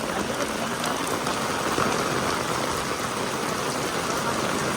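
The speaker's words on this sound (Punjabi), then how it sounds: "ਤੇਜ਼ ਹੋ ਗਿਆ ਮੀਂਹ ਤੇਜ਼" Heavy rain pours down steadily over an open farm field, a dense, unbroken hiss of drops filling the whole stretch at close range with no pauses.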